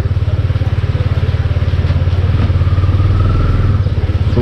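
A motorcycle engine runs steadily near Boudha, its close, even rhythmic thrum carrying throughout with a slight rise in pitch toward the end and no talk.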